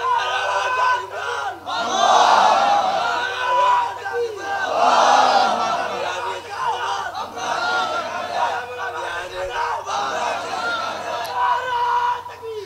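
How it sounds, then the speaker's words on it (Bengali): A large gathered crowd chanting the Nara-e-Takbir slogan in loud unison, with repeated surging shouted calls and responses rising and falling in waves, close and reverberant. "লোক দাঁড়ায়া একটু নারায়ে তাকবীরের স্লোগান দেন তো।"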